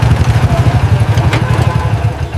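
Two motorcycle engines thrum loud and close in a steady, rhythmic pulsing idle that carries on without a break.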